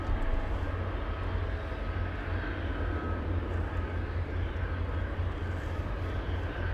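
An airliner goes around at Anchorage airport in gusty wind, giving a steady, loud low rumble of jet engines that holds throughout with no voices.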